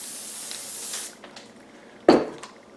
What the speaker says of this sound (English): now I'm going to give it another spray